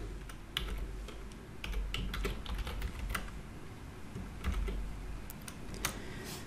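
Computer keyboard typing in short bursts of quick clicks and taps, close and moderately loud, entering a function name in Power Query, with brief pauses between the bursts.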